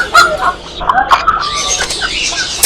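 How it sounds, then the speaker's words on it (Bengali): Cochin chickens clucking in a bird and animal shop, with several short clucks and calls scattered over about three seconds, close and fairly loud, mixed with background chatter. "এটা হচ্ছে কোচিং মুরগি, মাশাআল্লাহ খুব সুন্দর, একদম বল সাইজ"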